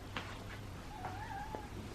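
A hungry cat meows several times in short, fairly faint calls, close by, over a quiet hum with no talking.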